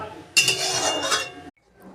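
A spoon scrapes and clinks against a pan while stirring a Bengali bori, potato and shol fish curry with slit green chilies and ground pepper, a close, busy metallic rattle lasting about a second before stopping.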